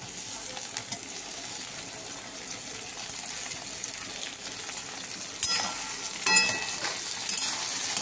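Tomato and green chilli added to browned onions in a hot pan, a steady sizzling and frying hiss throughout, with a few louder stirring scrapes and crackles near the end.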